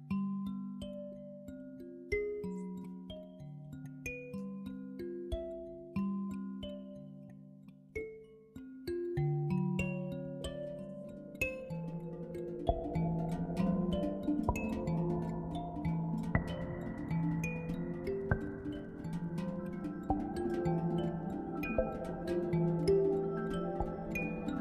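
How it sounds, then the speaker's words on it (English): Student-composed piece of music illustrating Greek yogurt, soft plucked and chiming notes in a sparse melody that thickens into a denser, layered texture with sustained tones, played quietly without voices. "This here is a piece of music that a student composed to illustrate Greek yogurt."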